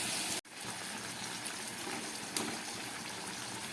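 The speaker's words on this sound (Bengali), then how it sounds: "আর এই মশলা ধোয়া জলটাও আমি দিয়ে দিলাম" Spice-rinse water poured steadily into a curry pot holding tomato pieces and a chili, a continuous close gushing wash after a brief sharp break near the start.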